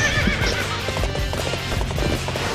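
Hooves clip-clop steadily while a horse in Dynasty Warriors 8 whinnies, loud and close, with a busy game backdrop and no talking.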